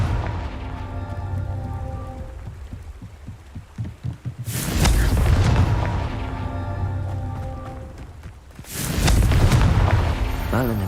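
Confringo fire spells from Hogwarts Legacy burst in two loud, booming explosions a few seconds apart, each followed by a crackling, rumbling decay over a low, throbbing game backdrop.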